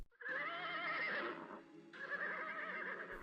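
A horse whinnies loudly and close by in a long, wavering neigh, breaking briefly before a second strained neigh follows, with no talk over it.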